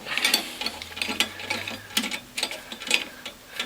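A top nut on the press plate of a Norwalk juicer is tightened with a tool, giving a quick run of close, crisp ratcheting clicks in uneven bursts, loud and alone without talk.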